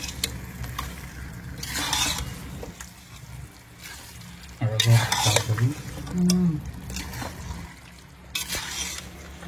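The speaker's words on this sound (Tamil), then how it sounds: "இது ஒரு 2 நிமிஷம் நல்லா வதக்கிடலாம் அந்த மசாலாவோட சேர்த்து" Chicken biryani masala, Ambur-style seeraga samba, is sautéed in a pan: a spoon scrapes and stirs in repeated bursts over a soft, steady sizzle, with short louder clattering passages near the middle.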